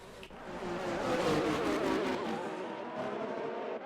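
A race car spins out during a Spain Grand Prix online league race in a racing video game, its engine note and skidding tires wailing loudly and continuously for a few seconds with no talk over it.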